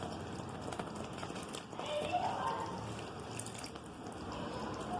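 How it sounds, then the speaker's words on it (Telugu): Water pours into a pot of tomato-based fish curry with a steady splashing hiss, accompanied by faint kitchen clatter and a soft background murmur. "ఇప్పుడు కొద్దిగా వాటర్ వేస్తాను"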